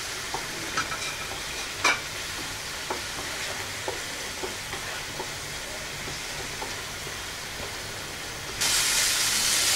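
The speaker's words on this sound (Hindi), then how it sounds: "मैं इस मिक्सचर को तब तक सौते करूंगी जब तक कि ये अपना तेल ना छोड़ दे।" Cottage cheese stuffing mixture with coriander powder, turmeric and red chilli sautéing in a pan, a steady sizzle with scattered clicks of a spoon stirring, growing louder in a burst of hiss near the end.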